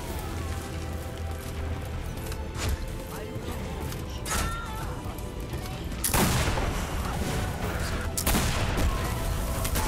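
Artillery barrage and grenade blasts in the video game Wrath of Heroes, several sharp booms and crackling explosions over a busy battle bed, the loudest burst near the end, with a voice talking throughout.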